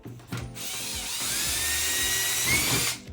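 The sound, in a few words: drill boring a pilot hole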